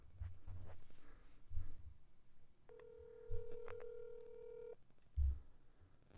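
A telephone call being placed: a run of dialing tones followed by a steady electronic ringback tone, clear and moderately loud over a soft room rumble with a few low thumps.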